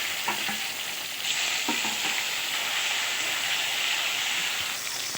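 Bay leaves, dried chillies, whole cumin and tomatoes fry in hot oil with a steady, bright sizzle and hiss, a few soft stirring knocks early on, close and continuous without speech.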